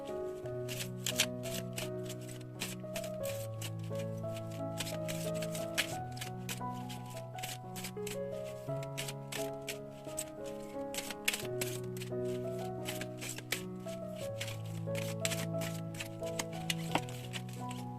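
A new oracle card deck being shuffled by hand, its quick papery riffles and taps running steadily over continuous background music.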